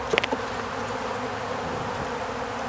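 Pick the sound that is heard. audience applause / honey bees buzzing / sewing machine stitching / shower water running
honey bees buzzing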